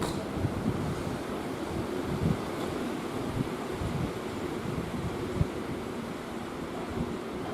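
Strong wind gusting at a mountain ski resort, a dense continuous roar buffeting the microphone with low rumbling, steady and loud throughout with no talking.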